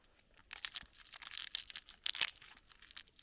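A peppermint chewing gum packet from a Danish military 24-hour ration being torn open, a run of close, crisp crinkling and ripping bursts of plastic-foil wrapper in an irregular rhythm.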